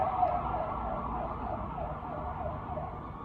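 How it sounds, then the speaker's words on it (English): Emergency vehicle sirens wail outside, their rising and falling tones steady but muffled and moderately faint, as if heard from indoors, with no talk over them. "I will wait for the sirens to stop."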